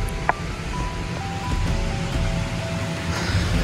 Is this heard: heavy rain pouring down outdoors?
yes